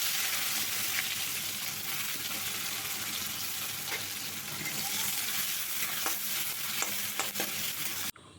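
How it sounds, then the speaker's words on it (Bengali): Chopped onion and a few cloves of chopped garlic fry steadily in hot oil, a continuous close sizzle with occasional stirring scrapes and no talk. "এই তেলের মধ্যেই আমি একটা বড় সাইজের পেঁয়াজ কুচি আর 2 থেকে 3 কোয়া রসুন কুচি ভেজে নেব।"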